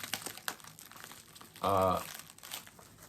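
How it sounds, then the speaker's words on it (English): An Amazon package is ripped open by hand, giving a short, loud, close tearing and crinkling burst amid quieter handling rustles. "we're just gonna rip this open"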